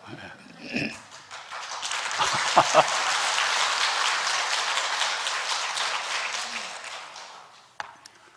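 A church congregation at a Korean Sunday service applauds, a sustained wash of many hands clapping for several seconds before fading, with a few voices nearby.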